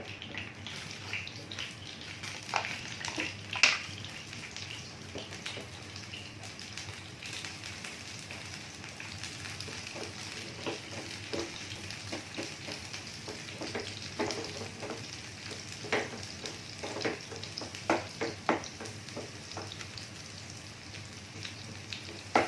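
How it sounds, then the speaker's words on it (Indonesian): Sliced tempeh fries in a little hot oil, giving a steady, close, rain-like sizzle with scattered crackles and pops throughout, and no talking. "Ayeuna urang goreng tempe dugi ka warnana keemasan."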